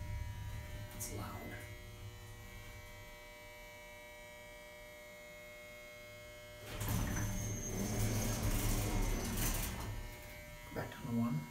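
A 1960s Westinghouse traction elevator's generator and motor run with a constant electrical hum and buzz. A louder rumbling surge rises midway and persists, with faint bumps near the end.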